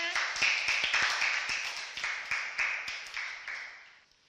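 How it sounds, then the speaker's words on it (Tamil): A class of students claps hands together in a classroom, a near, steady rhythm of sharp claps repeating for several seconds before stopping, with no talk over it. "கைத்தட்டுங்க"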